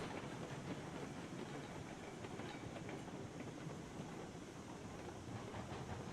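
A train rolls on rails in the video game Railroads Online, a steady, even rumble with soft clickety-clack running throughout, no one talking.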